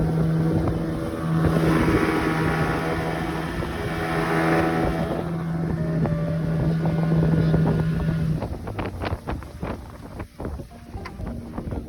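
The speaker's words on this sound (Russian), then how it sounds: "мы сейчас едем, полный газ. Лодка на глиссере." A motorboat planing at full throttle on a river drones steadily at high revs with strong wind buffeting the microphone, then gives way to choppy splashing and rushing water near rapids.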